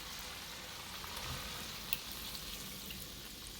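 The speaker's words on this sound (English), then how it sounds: "And we're gonna just let that cream cook and reduce until it get nice and thick" Cream cooking down in a pan for a steak sauce, giving a soft, steady bubbling hiss close by and unbroken, with no talking.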